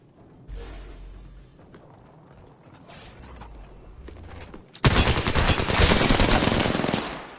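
Automatic weapon fire in the battle royale game Apex Legends: a few quiet scattered shots and game noises, then a loud, dense, sustained burst of rapid fire lasting a couple of seconds before it cuts off.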